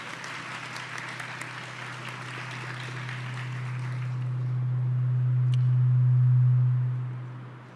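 An evening convocation audience applauds for a man named David, a steady wash of clapping that swells toward the end and then fades, with a low steady hum beneath it.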